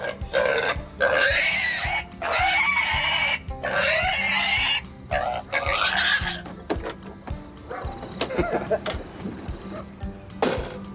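Rosie, a rescued pig, squeals and grunts loudly in repeated harsh bursts, close by, with shorter grunts and snorts trailing off toward the end.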